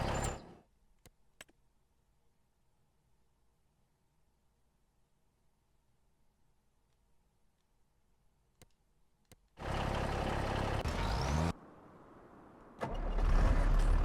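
A farm vehicle in Farming Simulator 25 rumbling loudly after a long near-silent stretch, with engine noise that drops to a lower level briefly and then surges again.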